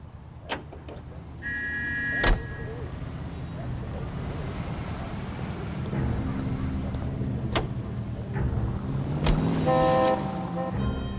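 Car driving in the video game L.A. Noire, a steady engine and road rumble throughout, with sharp clicks and a couple of short horn toots from surrounding traffic.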